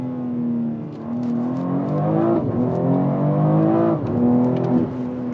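A BMW X3 M Competition engine revs up sharply as it downshifts, close and loud, and its pitch climbs and falls in two surges over a steady interior rumble.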